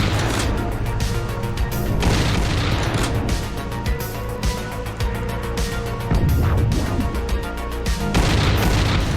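Shotgun blasts from a horror video game boom repeatedly amid a loud, dense wash of crashes and low rumble, with several heavy hits spaced across the stretch and no talking.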